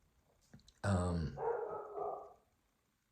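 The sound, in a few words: dog barking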